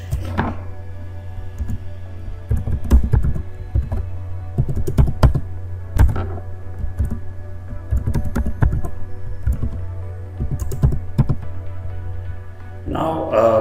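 Computer keyboard keys are typed in steady bursts of close, clicky taps while entering an admin password during a Microsoft Azure database setup, over a constant low electrical hum.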